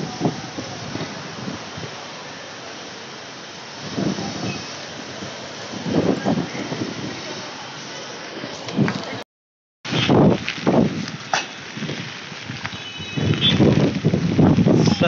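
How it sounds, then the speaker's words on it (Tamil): Strong storm wind during a cyclone in Chennai roars and gusts across the microphone near the central station, rising and falling in loud surges with a brief dropout midway. "இப்போ சென்ட்ரல் கிட்டே இருக்கேன், செம்ம காற்று அடிக்குது பாருங்கள்,"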